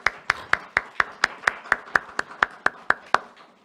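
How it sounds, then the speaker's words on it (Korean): A church congregation claps in unison during a Sunday service, making a crisp, regular beat of about four claps per second that carries on steadily and then stops. "박수로 축하해 주시기 바랍니다."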